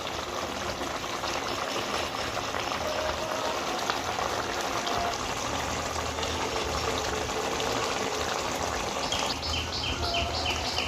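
A pan of gandharaj rui, a Bengali rohu fish curry, bubbles at a steady simmer on the stove. The boiling makes a dense, continuous hiss and burble, close and unbroken, with no voices.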